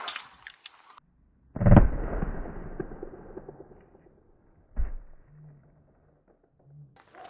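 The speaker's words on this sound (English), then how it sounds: "next caliber 357 Magnum out of this long-barreled Taurus" .357 Magnum fired from a long-barreled Taurus revolver at a IIIA bulletproof vest: one loud, sharp report with a long decaying tail, followed a few seconds later by a shorter bang.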